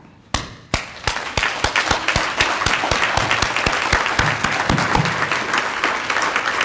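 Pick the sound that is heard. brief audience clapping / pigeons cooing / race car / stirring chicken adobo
brief audience clapping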